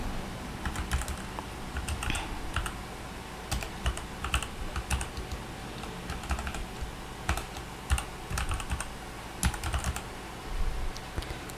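Keys clatter on a laptop or computer keyboard as an email address is entered to add a Google account, in quick irregular bursts of clicks with short pauses, close and steady, with no talking.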